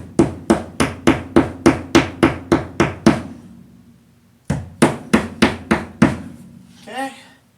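Steady hammer blows ring out while building a DIY acoustic panel, in two runs of sharp, evenly spaced strikes, about a dozen then five, followed by a brief scrape.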